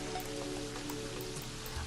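Rain falls in the video game Terraria as a steady, soft patter with faint scattered drops, continuous and even across the short stretch with no talking.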